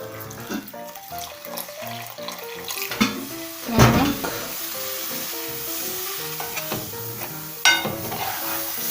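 A pan hisses and sizzles in short bursts as water from a kettle hits it, with stirring and sloshing over steady background music.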